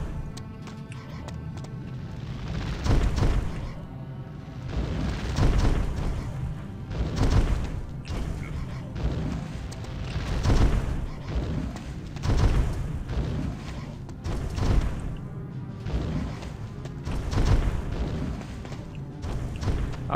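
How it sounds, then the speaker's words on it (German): Pillars exploding in the video game Drakan: Order of the Flame produce a steady series of heavy booms and rumbling blasts, roughly every two to three seconds over a dense, loud background. "Explodierende Pfeiler, das hört sich nicht schlecht an."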